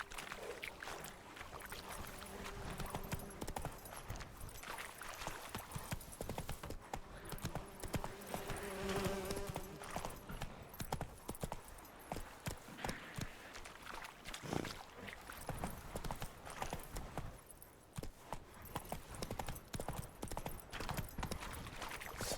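Hooves of the horse Roach clip-clop steadily in The Witcher 3, a continuous rhythmic trot or gallop under game music and ambience, with no talk over it.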